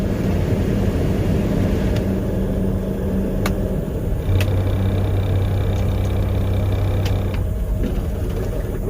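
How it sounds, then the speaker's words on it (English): A truck engine idles steadily nearby, a continuous low rumble with a faint hum that shifts slightly midway, alone without talk. "Let me shut the truck off so you can actually hear me."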